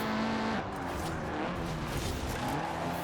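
A Honda Civic racing uphill in Forza Horizon 4 gives a steady, close engine roar with a gear change early on, among other race cars on the track.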